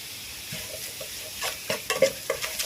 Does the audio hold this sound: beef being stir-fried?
yes